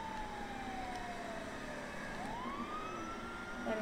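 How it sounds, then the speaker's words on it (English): A police siren wails faintly in the distance, its pitch sweeping down and then rising again over a low, steady traffic rumble. "move out of the way if you hear sirens"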